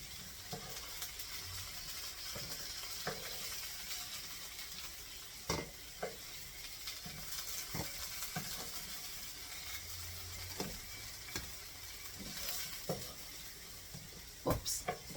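Sausages frying in a pan for breakfast roll-ups give a steady, quiet sizzle with scattered clicks and scrapes of utensils against the pan.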